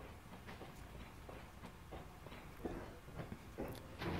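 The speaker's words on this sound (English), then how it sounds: "Though the train did make it across." A train rolling across a player-built bridge in the game Bridge Project, with rhythmic clattering wheel clicks and rumble that grow slightly louder toward the end, heard alone without talk.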